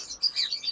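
Ringneck parakeets chirping in an aviary, a few quick high tweets and short calls in close succession, fairly clear against a quiet background.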